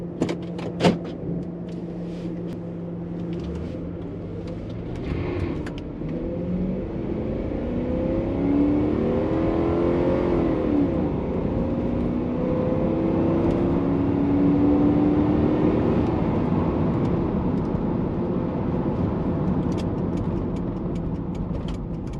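A 1998 Mercury Grand Marquis driving with the air conditioning off, its engine and road noise a steady broadband rumble that swells as it gathers speed, heard from inside the cabin with a few faint clicks and no talking.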